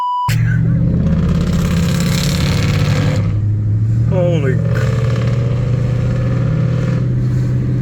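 A 1992 Toyota Soarer with a 1UZ V8 fitted with Black Widow Neighborhater mufflers revs hard and loud throughout, a deep sustained roar with rising pitch sweeps, while people exclaim over it.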